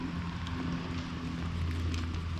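Steady rain falling on a riverbank by the River Mersey in freezing weather, a dense continuous patter with a low rumble beneath, close and constant throughout with no talking.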